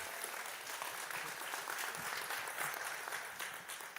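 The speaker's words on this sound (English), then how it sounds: "Round of applause." A round of applause rises from the audience at an afternoon session of an agricultural finance learning event, a steady, fairly faint wash of clapping throughout.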